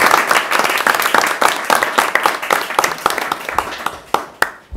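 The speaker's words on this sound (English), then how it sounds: "round of applause for him" People applaud an honoree at a Sykesville town council meeting. The clapping starts as a fairly full burst of separate hand claps, then thins out and tapers to a few last scattered claps near the end.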